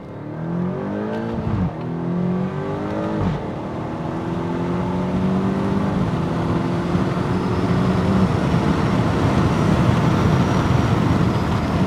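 A 2017 BMW X6M pulls hard in first gear, its engine note rising in pitch with a brief dip at a shift, then building into a steady loud roar of acceleration with road noise.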